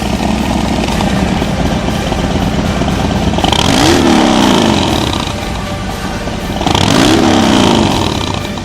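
A Harley-Davidson FXDR 114 motorcycle with an aftermarket exhaust idles with a deep rumble, then revs hard twice in short bursts, loud and close.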